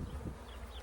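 Honey bees swarming around an opened beehive fill the air with a steady close drone, many wings humming together without a break.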